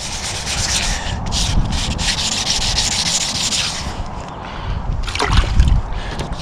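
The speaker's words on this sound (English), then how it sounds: "grit sandpaper and just start rubbing" Sandpaper rubbing by hand over 73-year-old original paint on a 1949 Plymouth Special Deluxe, a steady close scratchy rasp that keeps going without a break and swells louder near the end.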